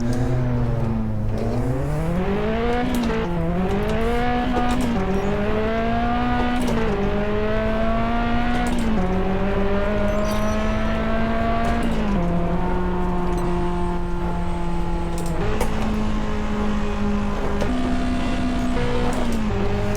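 A McLaren P1 engine in Test Drive Unlimited 2 drones loud and close throughout, its pitch rising through each gear and dropping at repeated shifts, with no voices.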